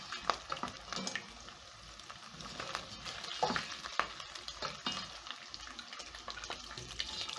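Beef sizzling and crackling in its own rendered fat in a pan, a steady close frying hiss with occasional stirring scrapes and pops, no talking.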